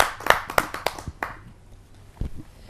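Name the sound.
audience applause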